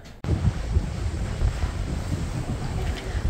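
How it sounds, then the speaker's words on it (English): A cruise ship sailing past the British Virgin Islands, with steady wind buffeting the microphone over a broad wash of sea and hull noise, continuous and fairly loud with no voices. "We are sailing past the British Virgin Islands here."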